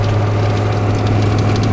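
A 1983 Chevrolet K20 4x4 Suburban's 6.2-liter diesel engine runs at a steady idle, loud and close, with a deep constant drone and a slight knocking rattle.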